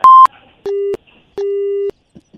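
Phone call disconnect tone, three loud electronic beeps alone, a short high one followed by two longer lower tones.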